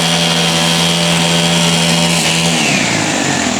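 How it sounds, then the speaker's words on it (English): A string trimmer whacks weeds in the gardens of a historic Virginia estate, its engine a loud steady whine close by that drops in pitch near the end as it eases off. "The guy is weed whacking."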